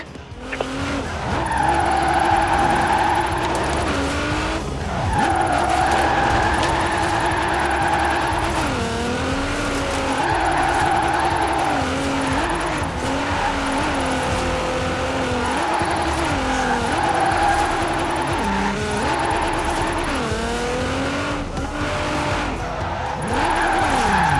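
Sustained engine roar from a car drifting in Forza Horizon 4, with wavering, continuous tire squeal and revving that rises and falls across repeated slides, loud and close throughout with no pauses.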